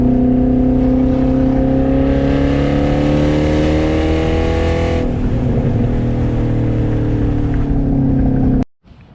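Loud, droning car exhaust recorded while driving through a tunnel, a steady rumble with strong low harmonics that swells into a brighter revving roar for a few seconds, then settles back before cutting off abruptly at the end.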